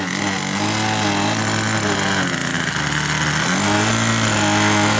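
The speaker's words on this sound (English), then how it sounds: "Look, the first taxiing on the runway." A 1.73 m Cessna 177 Mini Cardinal RC model plane taxis on a runway, its nitro engine droning steadily and loudly at a high pitch with slight shifts in speed and no voices.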